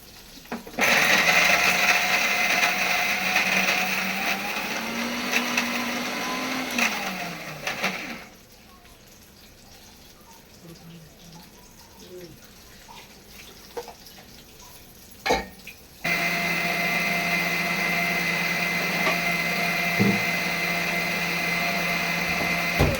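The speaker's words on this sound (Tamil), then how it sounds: "இப்போ தேங்காய் அரைச்சிக்கலாம்" A mixer grinder whirs loudly as it grinds coconut, pitch shifting as the load changes, then falls quiet amid faint handling clatter before starting up again for a second steady burst.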